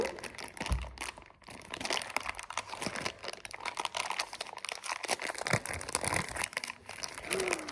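Crinkly plastic packet from an advent calendar rustling and tearing open, continuous close crackling and rustling for several seconds.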